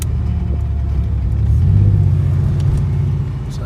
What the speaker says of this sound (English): So I downshifted to first, just to be. So it sounds, to me it sounds awesome